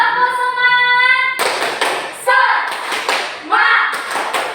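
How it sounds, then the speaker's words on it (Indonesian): Children in a classroom do a rhythmic spirit clap led by a teacher: sharp bursts of clapping come in short patterns, mixed with voices chanting and calling out. "Ayo, tepuk semangat."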